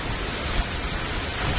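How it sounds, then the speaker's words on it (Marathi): Heavy monsoon rain pours down in Konkan as a loud, dense, unbroken wash of noise, filling the whole moment steadily with no gaps and no voices. "एवढा पाऊस आहे बघ."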